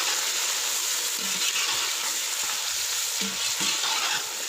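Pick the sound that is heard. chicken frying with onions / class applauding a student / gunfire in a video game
chicken frying with onions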